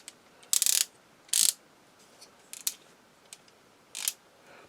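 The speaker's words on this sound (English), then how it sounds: "The soft ratchets for the legs." Soft ratchet leg joints on a toy action figure click in short bursts of rapid ratcheting, several separate close, quiet clicks spaced irregularly with gaps of near silence and no speech.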